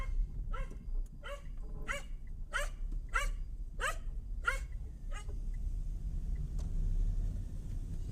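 Several dogs bark in a quick rhythmic series near a rural road, while a car engine and tyre noise hum steadily underneath and swell as the vehicle passes.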